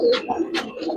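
Giribaz and Pangkhi pigeons cooing, a couple of soft throaty coos close by amid light background voices.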